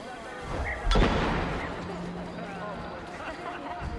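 A sticky bomb in Assassin's Creed: Revelations goes off in one sudden, loud explosive burst, then a rumbling tail fades into background game ambience while someone talks.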